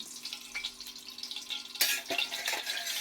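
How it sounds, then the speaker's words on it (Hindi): Oil poured into a hot kadhai on the stove, with steady sizzling throughout that jumps to a louder, brighter hiss and crackle partway in as the oil hits the hot metal. "कढ़ाई मेरी गर्म हो गई है तो इसमें मैं ऑयल डालती हूँ"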